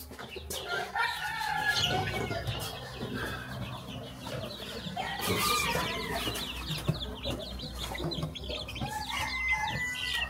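Brahma chicks on a poultry farm, with steady clucking and chirping from many birds and the occasional crow or wing flap from adult fowl nearby, continuous throughout and no talking.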